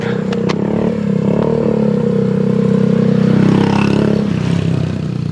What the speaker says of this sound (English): there's a nice big motorbike coming